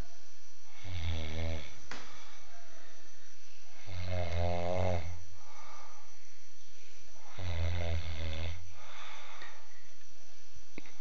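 Loud, close snoring from a sleeping person, three long rattling inhalations spaced a few seconds apart with quieter breathing between them and no talk.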